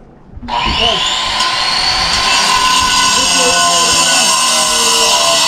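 A power saw cutting stone at a masonry construction site starts abruptly and runs loud and steady, a harsh grinding whine that holds without pause to the end.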